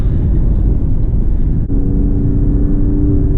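An Alfa Romeo Giulia Quadrifoglio driving with 88,000 miles on it: a loud, steady interior drone of engine and road noise with a low hum that holds throughout, with no voices.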